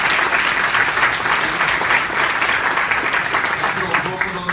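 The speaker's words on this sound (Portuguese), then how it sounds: "Queria saudar e pedir uma salva de palmas para o Conselho Superior da Universidade" Sustained applause from a large audience at a university honorary doctorate ceremony in Juiz de Fora, Brazil, a dense continuous wash of clapping at steady loudness throughout.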